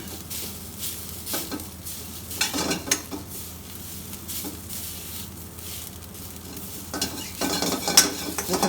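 Food sizzling in a hot pan on a gas stove, a steady hiss broken by bursts of stirring and pan scrapes, close and moderately loud, with a brief metallic clink near the end.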